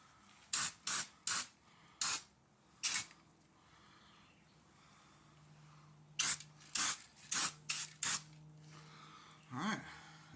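Short bursts of an aerosol spray can paint a Model A Ford frame, coming in a quick cluster of hisses, then a pause, then another rapid series, close and fairly loud.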